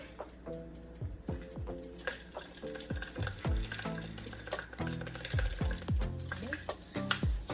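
Zucchini noodles seasoned with garlic powder and onion powder being stirred in a pan, giving soft repeated scraping and clinking strokes over a low sizzle at a moderate rhythm, close and fairly quiet with no talking.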